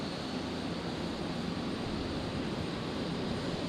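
Embraer jet taxiing out toward runway 01 right for departure at Brisbane Airport at night, a steady, moderately distant broadband jet-engine roar that holds even throughout, with no voices.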